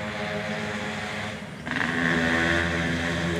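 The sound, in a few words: motorcycle passing on nearby road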